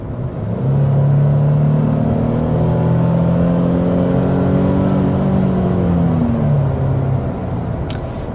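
A 2025 Nissan Frontier PRO-4X pickup with a 9-speed automatic accelerates hard, its engine note rising in a loud, steady roar through several gear changes across the whole stretch, with no talk.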